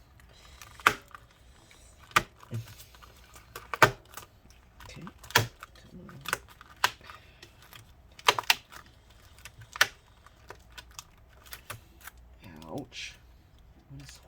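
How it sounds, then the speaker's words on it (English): Plastic clicks, snaps and creaks as an HP Pavilion x360 14m-cd0003dx laptop keyboard is worked loose and pulled through its chassis, a string of sharp separate ticks spread over the stretch, with a short spoken word near the start. "Now let's pull the rest of the keyboard through"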